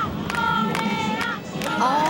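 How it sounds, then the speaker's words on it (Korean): Crowd at a Mexican lucha libre professional wrestling match cheering and clapping, a steady dense roar with whistles and shouts rising through it, close and loud throughout. "최선을 다한 선수들에게 진심 어린 갈채를 보내는 것이다"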